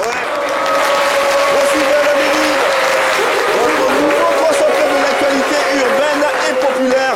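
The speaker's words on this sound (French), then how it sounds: "Allez, applaudissements pour Jojo, s'il vous plaît." A studio audience at a French talk show claps loudly for a guest named Jojo in a dense, steady round of applause, with some scattered voices and cheers mixed in.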